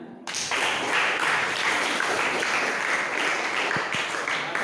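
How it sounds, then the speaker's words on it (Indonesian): Students in a classroom applaud together after a group presentation on Islamic inheritance, a dense, steady patter of many hands that keeps up at even loudness throughout with no break. "Tepuk tangannya mana?"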